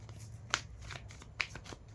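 Tarot cards being handled and laid out on a newly spread cloth, giving soft card clicks and two sharper snaps over a quiet low hum, with no talking.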